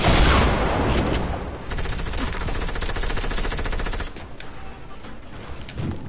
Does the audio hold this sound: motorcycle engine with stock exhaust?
no